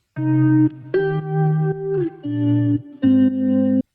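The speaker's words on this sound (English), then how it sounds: "And with the processing, the guitar sounds like this." Electric guitar chords washed in delay and reverb, the notes blurring into one another with trailing echoes, loud and up front.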